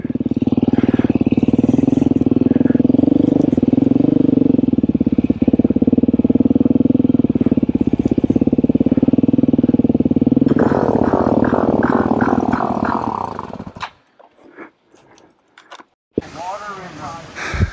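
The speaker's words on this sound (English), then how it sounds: "we've got a 690 problem. The throttle is not staying constant" A KTM 690 off-road motorcycle engine runs close by with an unsteady throttle, a loud uneven rumbling drone that rises and falls for most of the stretch before cutting out, with voices heard alongside.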